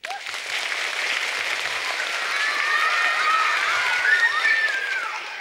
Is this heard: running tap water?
no